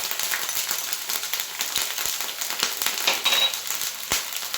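A spoon or spatula scrapes and stirs chili sauce, soy sauce and vinegar in a hot pan for mirch paneer, giving a steady close sizzle with quick irregular scraping clicks and no talking.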